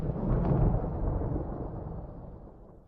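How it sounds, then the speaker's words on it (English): Thunder rumbles low and heavy, swelling briefly and then fading into a long, slowly decaying roll, with no voices. "Do you hear the thunder rolling?"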